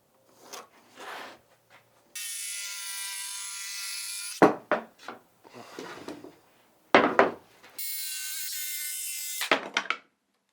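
Wooden shelf edges being rounded over with a handheld power tool guided by a jig, giving two sustained whining bursts of cutting between intermittent scraping and knocking of wood, close and fairly loud.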